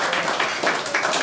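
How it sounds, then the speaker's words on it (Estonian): Brief, dense applause at a 50th birthday party contest for a man named Indrek, a steady wash of many hands clapping close by. "Aplaus Indrekule."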